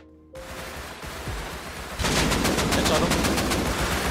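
Rapid bursts of gunfire in the console version of the survival game Rust, first scattered shots and then a dense, loud volley over the final two seconds, up close.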